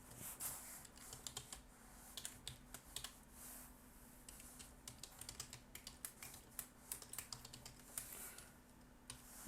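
Rapid, quiet tapping of fingers on a computer keyboard, an irregular burst of keystrokes with short pauses, close and faint with no voices.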